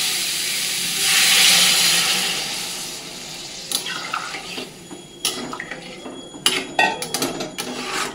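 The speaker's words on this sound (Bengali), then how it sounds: "কষে গেছে, এবার একটু জল দিয়ে দেবো" Water pours into a pan of frying potato and cauliflower masala with a loud rushing hiss and steam burst, followed by scattered sizzling and clinks of a spoon against the pan.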